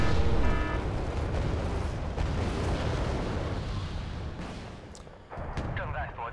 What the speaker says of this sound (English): There goes the mortars.